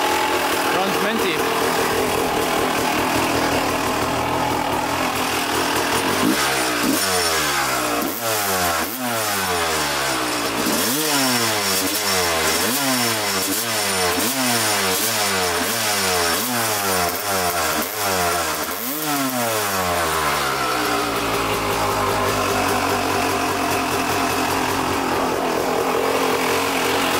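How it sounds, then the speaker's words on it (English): A Honda CR250 two-stroke dirt bike engine runs loud and close, revving repeatedly in sharp rising and falling bursts over a steady idle before settling back down. "To start this thing, you just tip over the bike to get the gas in the carb, and then it starts up like first kick."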